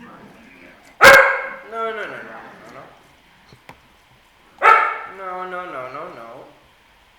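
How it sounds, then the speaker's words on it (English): A dog gives two loud, close barks several seconds apart, each trailing into whining yips, while a person talks in between. "Don't need a barking dog."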